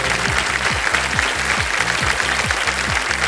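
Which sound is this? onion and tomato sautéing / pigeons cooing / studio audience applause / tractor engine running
studio audience applause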